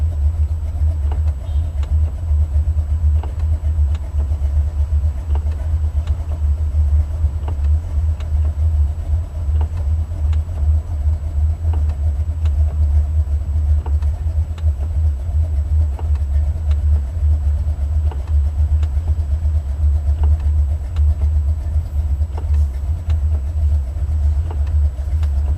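Buick 455 Stage-1 Regal-T V8 while driving, a steady deep low rumble held evenly throughout with road noise and no change in pitch.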